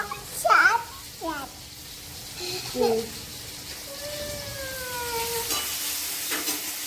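Fish frying in a pan in a home kitchen, with steady sizzle and stirring clatter throughout, while a voice talks over it in short bursts and a faint whistle-like tone rises near the end.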